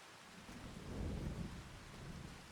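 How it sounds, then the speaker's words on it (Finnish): Steady rain hisses across the whole scene in Farming Simulator 25 while a low rolling rumble of thunder swells in the middle and fades, with no speech. "mitäs toi vesisade? No se loppuu tuossa ihan hetken päästä."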